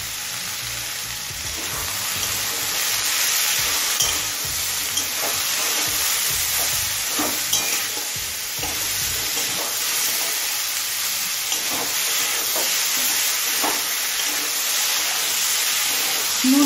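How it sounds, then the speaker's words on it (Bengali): Bottle gourd and mixed vegetables with salt, turmeric and ginger fry in a pan with a steady, loud sizzling hiss and occasional stirring scrapes. "নুন, হলুদ আর আদাটা সব কিছুর সাথে মিশিয়ে আরও 3-4 মিনিট ভেজে নিয়েছি।"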